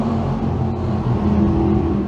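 Sportsman race cars roar off the line together at the start of a heat, a loud, dense and sustained engine blare with no gaps.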